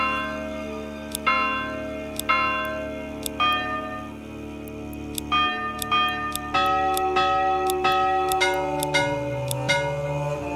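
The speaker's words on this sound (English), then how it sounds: "Oh, we can choose a bell sound." Church bell in the video game Manor Lords, a series of ringing metallic strikes with long sustained overtones, spaced irregularly and growing denser toward the end, clear and fairly close over a low tonal background.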